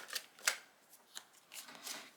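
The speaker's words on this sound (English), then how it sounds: "every time I try to shuffle this deck, like 5-6 cards flow out." A deck of tarot cards is shuffled by hand in a series of short, soft riffling bursts spaced irregularly, fairly close and quiet.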